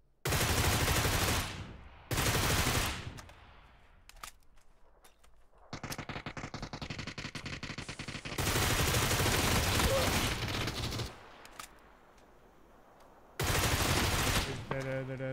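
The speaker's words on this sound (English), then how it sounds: "I'm getting shot from behind." Gunfire in the battle-royale game PUBG comes in loud bursts of rapid automatic shots, several volleys separated by quieter gaps, with a short stuttering burst near the end.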